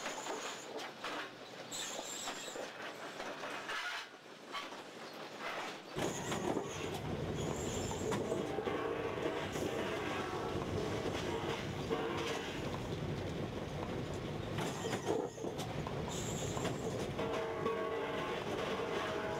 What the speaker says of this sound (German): Beim Umbauzug werden die neuen Bahnschwellen über ein Portalkransystem zugeführt, dann abgelegt und gleich ausgerichtet.